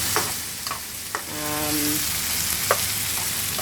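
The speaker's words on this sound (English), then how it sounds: "we're just going to literally just mix it round now" Brown stew fish with Scotch bonnet pepper sizzles steadily in a frying pan while being stirred, with a few close, sharp clicks of a utensil against the pan over the constant crackling hiss.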